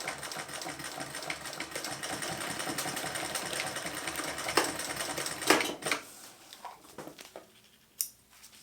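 A sewing machine stitches wing panels onto a spacer-mesh running phone pouch, a fast rattling run of needle strokes that stops abruptly near the end, leaving a few faint clicks and handling sounds.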